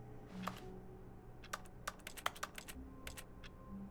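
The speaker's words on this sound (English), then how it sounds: "why does everything I do sound like I'm clicking on a keyboard?" Keyboard clicks in the video game The Stanley Parable, scattered crisp keystrokes in short irregular bursts over a quiet hum, close and fairly faint, with no talking.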